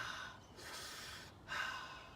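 Two deep breaths, each a close, airy inhale drawn during a stretch in an ab workout, with a short pause between them and no talking.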